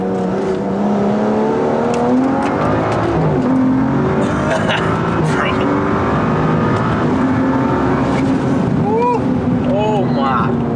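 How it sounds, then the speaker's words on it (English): Turbocharged BMW F30 335i with big-turbo performance mods accelerating hard under full throttle with anti-lag active, a loud continuous engine roar with rising gear-pull sweeps, excited voices talking over it throughout. "we're gonna go ahead and activate anti-lag"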